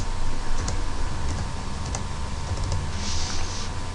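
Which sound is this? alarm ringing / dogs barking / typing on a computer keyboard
typing on a computer keyboard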